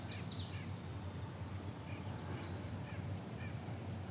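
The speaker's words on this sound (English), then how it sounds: "Birds are chirping." Birds call outdoors beside a fishing spot, a few scattered high chirps over a steady low background hum, moderately faint and without speech.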